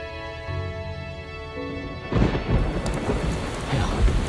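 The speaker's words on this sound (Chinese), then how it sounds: "哎呀，下雨了，" Rain starts to pour with a rumble of thunder, cutting in abruptly after a stretch of soft music and then settling into a steady, dense downpour, close and fairly loud, with no voices.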